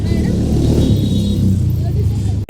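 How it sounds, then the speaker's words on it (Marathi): Road traffic beside the TKIET college campus in Warananagar, Kolhapur, during a traditional-dress day: a loud, steady low rumble of passing vehicles fills the whole stretch, with voices faintly mixed in. "आणि इकडं बघा गाड्यांचा आवाज कसा येतो."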